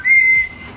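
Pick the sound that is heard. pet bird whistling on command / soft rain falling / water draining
pet bird whistling on command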